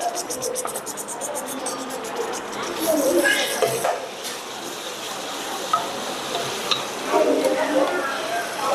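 Onions sautéing with cinnamon and cardamom in a pan for Chettinad mutton biryani give a steady close hiss and sizzle, with occasional stirring scrapes, under continuous speech.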